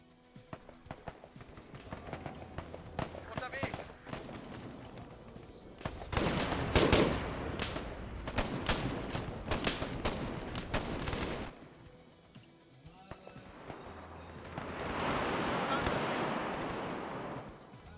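Bursts of rapid gunfire crackle through the middle stretch, with running footsteps and scattered shots before and a rushing noise swelling near the end.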